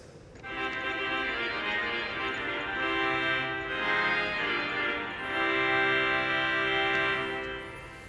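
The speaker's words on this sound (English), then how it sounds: "there's an actual metal reed in the bottom of each pipe that gives it a very buzz-like character." Pipe organ reed stop with metal reeds vibrating at the base of each pipe, giving a bright, buzzy tone; sustained chords hold steadily and shift a few times, loud and resonant throughout with no talking.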